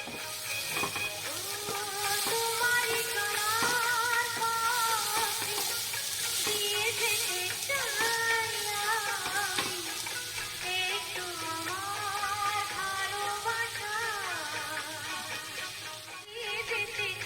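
Boiled rajma and kabuli chole with spices sautéed in a pan, a steady close sizzle with continuous stirring and scraping that holds fairly even for the whole stretch before briefly dipping near the end, no voices.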